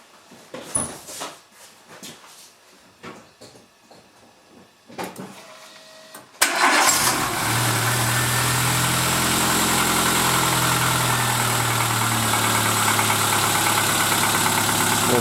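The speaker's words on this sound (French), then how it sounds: "je vais démarrer vite fait le moteur." A 1997 Renault Twingo 1 engine, checked after coil and spark plug work, cranks and catches after some quiet clicks and handling noises, then settles into a loud, steady, close idle that holds to the end.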